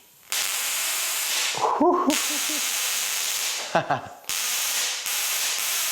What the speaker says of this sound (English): The voltage here is now in excess of 50 kilovolts as the sparks are over 5 centimeters.